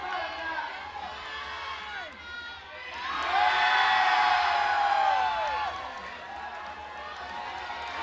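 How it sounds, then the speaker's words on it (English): A crowd roars and cheers wildly at the finals of a climbing competition, swelling loud and sustained with whoops and shouts through the middle, while an announcer talks over it. "The crowd is going wild."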